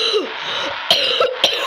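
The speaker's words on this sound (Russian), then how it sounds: "кашлять" A man coughs sharply twice in quick succession, close and loud, over a steady hum of a truck-driving game running in the background.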